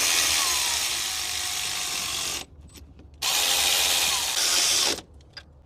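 Power tool runs down the throttle body bolts on a Ford F150 5.0 Coyote V8, two loud sustained whirring bursts of about two seconds each, separated by a short pause with faint clicks.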